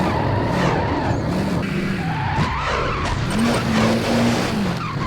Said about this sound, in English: It's kind of hard to get the car drifting.